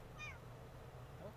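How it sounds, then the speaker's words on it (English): A cat meows close to the microphone, one short rising-falling call followed by a fainter second meow about a second later, over quiet room noise. "Kitty! That's a Cat."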